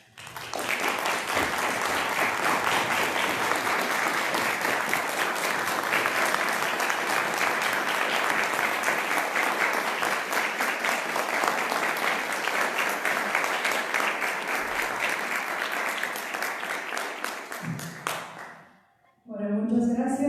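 An auditorium audience at a Marxist conference session applauds in a long, thick, even wall of clapping for about eighteen seconds, then it cuts off abruptly, leaving a brief quiet and a short noise at the very end.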